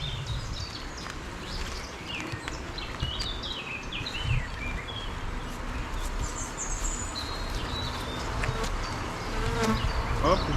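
Honey bees buzz in a dense, continuous swarm at a spring honey harvest, with individual insects droning past up close and faint birdsong in the background.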